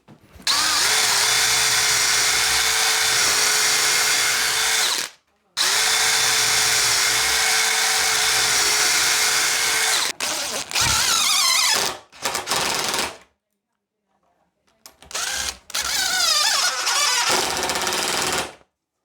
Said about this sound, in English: we're just going to drill and screw these in